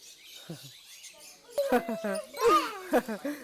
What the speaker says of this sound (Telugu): ఇవి లవ్ బర్డ్స్ అంటండి.